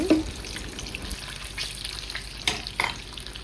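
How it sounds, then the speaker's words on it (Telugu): Four eggs fry in a pan for a capsicum egg curry, a soft, steady sizzle interrupted by a few short scrapes and taps from stirring. "మంచిగా ఇలా ఫ్రై చేసుకోవాలండి."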